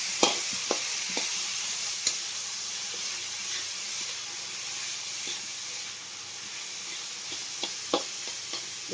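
A vegetable and rice mixture fries in a hot pan with a steady, loud sizzle and hiss, broken by occasional clicks and scrapes of stirring, close up.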